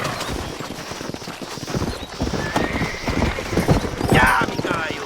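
A horse in the Red Dead Redemption video game gallops with rapid, loud hoofbeats and then gives a sharp neigh near the end, with faint voices mixed in.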